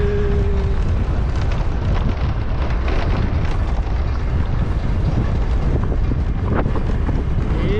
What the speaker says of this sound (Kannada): ಭಯಂಕರ ಗಾಳಿ ಅಂದರೆ ಭಯಂಕರ ಗಾಳಿ.